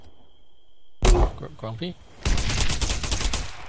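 Airsoft gunfire crackles in rapid, sharp bursts during an outdoor skirmish game, starting abruptly and then continuing as dense repeated shots under voices calling out.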